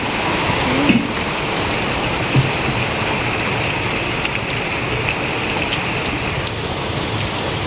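Steady rain pours down in a continuous hiss, with a couple of heavier drops or taps standing out near the start.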